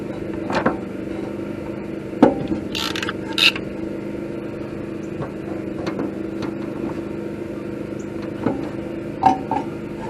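Crimping tool jaws squeezing a fitting on hot water tank plumbing in a pop-up camper, with repeated creaking strains and sharp clicks over a steady hum, close by.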